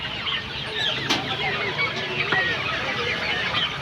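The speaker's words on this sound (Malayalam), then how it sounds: "കോഴിക്കുഞ്ഞ്, ഫാൻസി കോഴി ഫയോമീൻ്റെ ഫാൻസി കോഴിൻ്റെ കുഞ്ഞുങ്ങൾ" Fayoumi fancy hens and chicks at a busy outdoor market in Kasaragod, with scattered clucks and thin chirps heard faintly amid crowd noise and talking.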